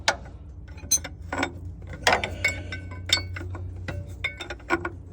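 An old Insley dragline's mechanism being turned over slowly by hand, giving scattered metallic clinks and ratcheting clicks at irregular intervals over a low steady hum.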